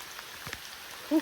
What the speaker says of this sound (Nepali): धेरै ठुलो पर्यो क्या पानी पनि है